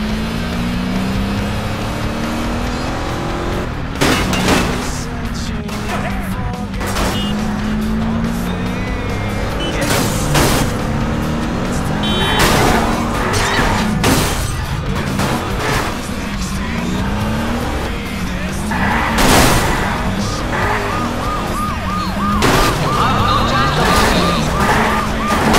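A car in the Wheelman video game driving hard, with a loud, continuous engine roar, repeated tire squeals and skids, and sharp impact bursts from crashes throughout.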